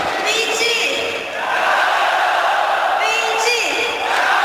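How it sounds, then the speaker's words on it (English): A large crowd roars and chants in a big echoing arena at a Dota 2 esports match, loud and sustained, with voices rising and swelling together. "They're getting a VG cheer going on."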